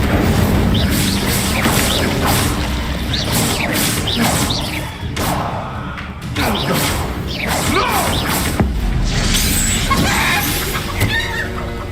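Incendio fire spell cast in the video game Hogwarts Legacy, a loud whooshing burst with booming impacts layered over dense, busy game ambience throughout.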